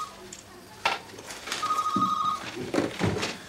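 An office telephone rings in a police detective's office, a bright electronic trill that breaks in between short bursts of nearby talking.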